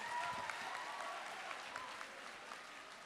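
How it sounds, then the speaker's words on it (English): Applause from a debate showcase audience for the speakers of both teams, a steady wash of clapping at moderate-to-low level that fades gradually across the few seconds. "Can we give a round of applause to all the speakers for both teams?"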